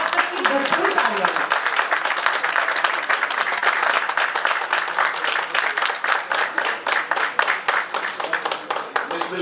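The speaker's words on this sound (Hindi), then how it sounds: "आप सबकी भरपूर तालियां।" Sustained audience applause at a gathering, a dense wash of clapping that stays strong throughout and breaks into more distinct, rhythmic hand claps toward the end, with a voice briefly heard at the start.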